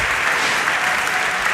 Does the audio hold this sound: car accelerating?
no